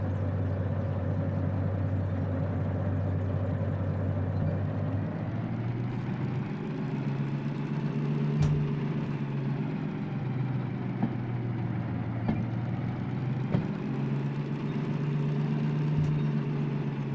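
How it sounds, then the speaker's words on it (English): A mechanical train engine idles in the video game Derailed with a steady low whirring hum that holds for about seventeen seconds, broken only by a few faint clicks and ticks. "You can hear the engine just like whirring, basically."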